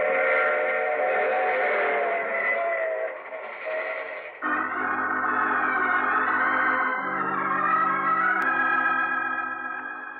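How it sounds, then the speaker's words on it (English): Steam train effect from a 1940s old-time radio mystery drama: loud, sustained whistle-like tones with layered rumbling rail noise that shift pitch partway through, with no voices over it. "I take this same train every week at this same time."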